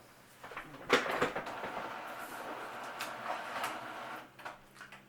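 An Epson home printer prints on glossy paper, giving a soft mechanical whir and shuffle that rises and falls with the feed, including a brief clunk near the start.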